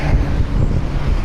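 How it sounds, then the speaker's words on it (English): Strong wind buffets the microphone outdoors on the coast between Worthing and Brighton, a loud low rumbling roar that gusts unevenly throughout, with no talk. "Yes, I'm aware it's quite windy."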